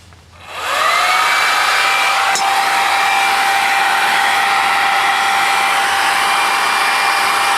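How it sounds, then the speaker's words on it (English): A hair dryer runs steadily and loudly, blowing hot air onto a stiff tire on an old Craftsman lawn tractor. It whirs up in the first second and holds a constant high-pitched hum, close to the listener and with no talking. "So what I want to do is I brought a hair dryer out."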